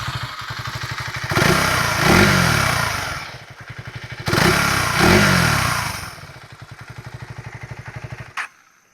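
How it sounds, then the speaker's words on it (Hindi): A 2026 KTM Duke 350 Gen 3 with an underbelly exhaust idles with a rapid, even thump, then revs loudly twice in strong swells before settling back to idle and shutting off. "अभी मैं आपको इसका एग्जॉस्ट साउंड सुना दूँ।"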